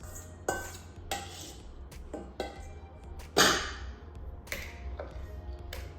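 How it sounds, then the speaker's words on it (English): A spoon stirs lemon poppy seed muffin batter in a mixing bowl, giving a series of sharp clinks against the bowl roughly once a second over a soft scraping background. "give that a good stir"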